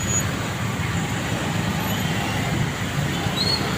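Steady road traffic of motorbikes and cars crawling in a jam during heavy rain and strong wind, a continuous broadband wash of engines, tyres and rain with no voices.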